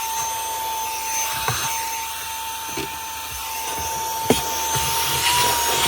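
Constant motorized whine from an OXILAM handheld cordless car vacuum cleaner picking up debris inside a car, steady and close, with a few faint bumps and knocks over the hum.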